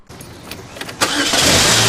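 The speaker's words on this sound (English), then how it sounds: "then we turn off the good car and see if the dead car will start on its own" A car that has just been jump-started cranks briefly, then its engine catches and settles into a loud, steady run close by.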